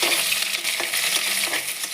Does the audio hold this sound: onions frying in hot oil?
yes